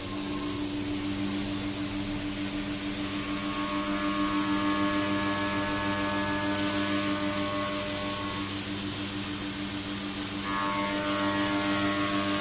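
A CNC machine face milling a Geneva drive wheel part at 6,000 RPM and 48 inches per minute gives a steady, loud whine with constant tonal layers from start to finish, with no talking.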